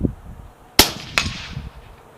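A 6mm ARC Howa 1500 mini action rifle fires at a spinner target, giving one sharp loud crack followed by a second fainter impact, then quiet outdoor ambience.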